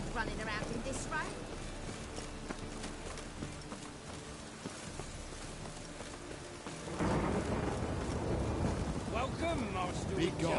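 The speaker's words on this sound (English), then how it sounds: "Must be mad running around in this rain." Steady heavy rain with thunder rumbles during a stormy scene in The Witcher 3: Wild Hunt, a dense continuous wash that grows louder and fuller partway through, with voices at times.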